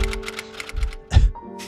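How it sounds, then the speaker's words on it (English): Fingers tap rapidly on a computer keyboard, a close run of sharp clicky keystrokes in quick bursts with a heavier thump near the end. "This keyboard is weird as shit, dude."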